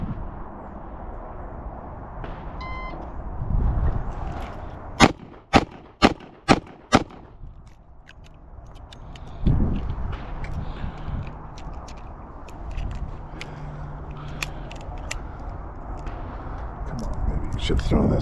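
A Ruger LCRx revolver fires a rapid string of five loud, sharp shots, followed by the softer clatter of a speed-loader reload, with a voice talking before and after the shooting.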